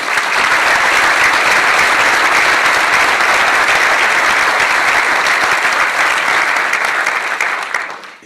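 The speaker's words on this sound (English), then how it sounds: "Please give them a round of applause." A large audience delivers a sustained, loud round of applause, dense and continuous clapping mixed with crowd noise that holds steady for several seconds before fading out at the end.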